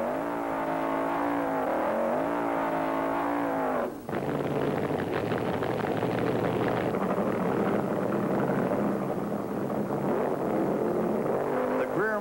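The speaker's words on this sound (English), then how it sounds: "The burnouts are wild." Vintage 1970s drag racing funny cars, among them the Chi-Town Hustler, roar loudly and continuously through their burnouts, the engine note shifting partway through.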